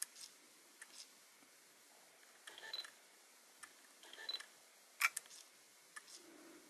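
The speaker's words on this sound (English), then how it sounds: "you can actually see the leaf shutter in action" A Fujifilm X100S camera's quiet leaf shutter and controls give a scattering of small, soft clicks at irregular intervals, with one sharper snap near the end, close and faint in a quiet room.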